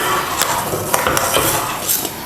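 A thickening milk mixture for peda is stirred in a pan, with a spoon scraping and clinking against the metal in a dense, continuous rhythm over a steady bubbling background.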